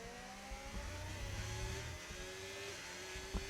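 A Ferrari Formula 1 car engine in a racing video game, a distant, fairly faint whine that climbs in pitch through upshifts, with other car engines droning underneath and a brief knock near the end.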